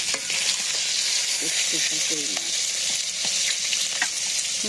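Koi fish fry in a pan of hot oil for a village-style mustard fish dish, making a constant close, crackling sizzle with a few faint voices murmuring underneath.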